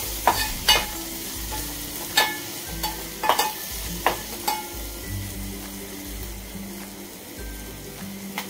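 Spices, Kashmiri masala and red chili powder, stirred in a pan over soft steady frying, with a spoon scraping and tapping the pan in irregular strokes every second or so.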